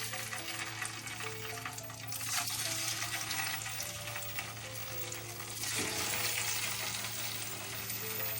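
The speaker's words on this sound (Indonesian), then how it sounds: "Tahunya kita goreng setengah matang." Tofu fries half-done in a pan for a stir-fry of bitter melon, tofu and petai, giving a steady, close hiss and crackle of hot oil that swells slightly partway through.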